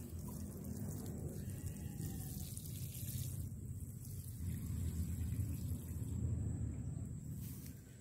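Bean seeds just planted in compost-filled rows being watered, a steady broad splash and pour of water running continuously and close by, growing slightly louder in the second half, with no talking.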